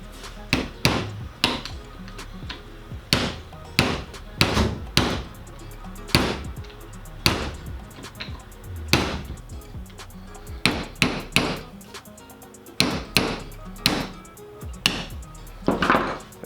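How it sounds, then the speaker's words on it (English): Irregular metallic hammer blows striking a screwdriver to drive a retaining ring on a muddy Tacoma front U-joint, sharp and close, in uneven bursts with brief pauses between groups of strikes. "I'm gonna use a hammer, and right now I'm gonna be using one of my screwdrivers to kind of drive this ring"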